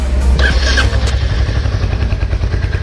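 A Royal Enfield Hunter 350 motorcycle idles with a loud, low thumping exhaust note pulsing steadily throughout, with a brief mechanical clatter early on.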